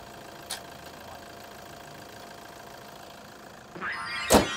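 Toyota Fortuner with a 3.0 engine idling at a used-car lot, a quiet steady low rumble with a faint hum, plus a couple of sharp brief noises near the end.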